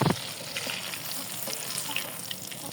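Chicken pieces frying crisp in hot oil, restaurant-style, giving a dense, continuous crackling sizzle up close for a few seconds, with no talk.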